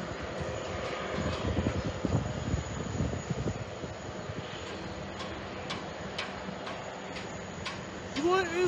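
Airliners landing in parallel at JFK Airport, a broad distant jet roar that swells and fades, with wind buffeting the microphone and a voice heard briefly near the end.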